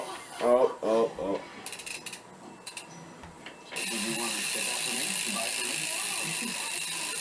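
BMX rear hub freewheel spinning on its axle, giving a steady fast ratcheting buzz that starts about halfway through and runs continuously to the end, after someone talks briefly at the start.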